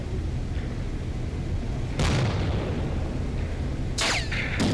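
Two grenade explosions go off in the military shooter Arma Reforger, a loud broadband blast followed a couple of seconds later by a second burst, over a steady low rumble of battlefield noise.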